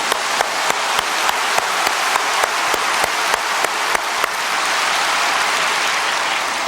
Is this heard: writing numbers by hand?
no